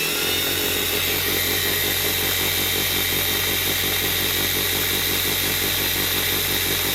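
A slot car motor runs on a test bench during tech inspection, giving a loud, continuous high-pitched whine at a steady 3,000 RPM with no change in pitch throughout.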